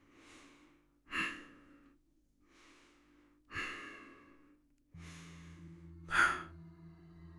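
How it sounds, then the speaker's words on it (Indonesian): Heavy, deep breathing behind a thin wooden door, slow rhythmic inhales and exhales, five or six breaths with rasping, snort-like peaks, quiet and close against near silence. "Dekat banget sampai dia bisa dengar suara napas yang berat dan dalam."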